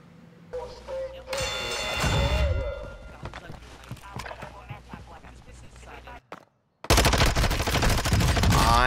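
Bursts of automatic gunfire rattle in Call of Duty: Warzone 2, loud and close, with a brief dropout before another intense volley; a voice speaks amid the shots.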